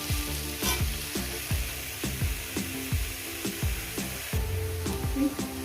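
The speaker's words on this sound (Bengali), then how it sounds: "মোড়ালা মাছ দিয়ে মিনিমাম ছ থেকে সাত মিনিট এটাকে আমি ভেজে নেব" Spinach frying with small mourala fish in a pan, a steady soft sizzle broken by regular scraping stirs of a spatula, close and moderately quiet with no talking.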